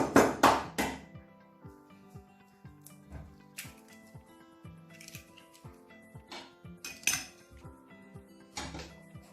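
Batter of milk and egg being stirred in a bowl produces repeated light clinks and taps of a utensil against the bowl, quick and uneven, close and fairly quiet.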